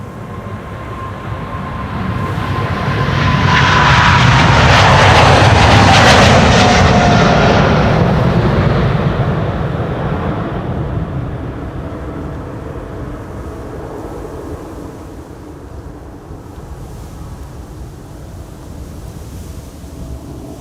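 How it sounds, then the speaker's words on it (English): A KLM Boeing 777-200 jet departing Amsterdam Schiphol Airport: a loud, sustained engine roar that builds to a peak and slowly fades as the aircraft climbs away, with a faint whine, heard alone without speech. "This is KLM Flight 602 777-200 going to LAX"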